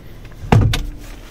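A storage compartment in a GMC Sierra SLE cabin snaps shut, with one sharp close followed by a quick second click, near and distinct against a quiet interior.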